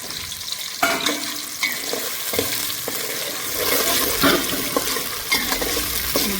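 Sliced onions and green chillies frying for prawn biryani crackle steadily in a pan, with clattering stirs and knocks throughout and no voices.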